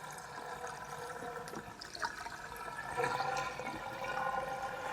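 Five litres of water pours steadily into a container in a motorhome, a continuous smooth rushing stream with no glugging, building slightly louder toward the end.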